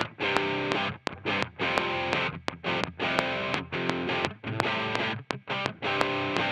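Distorted electric guitar chords with a chorus effect, strummed in a fast, choppy rhythm of repeated bursts with brief gaps, loud and alone, in a midwest emo pop punk style.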